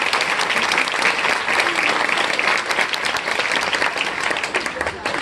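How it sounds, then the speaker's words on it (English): An audience gives a fifth grade team a round of applause, dense and steady clapping from a large crowd filling the whole stretch at close, even volume. "So one more round of applause for this great fifth grade team"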